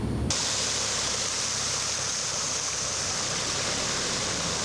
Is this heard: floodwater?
yes